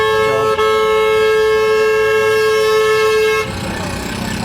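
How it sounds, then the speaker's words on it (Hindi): Outside a bus stand, a loud, sustained vehicle horn blares for several seconds close by, then cuts off, leaving general traffic noise. "और बातों के अलावा हॉर्न भी आएंगे आपको"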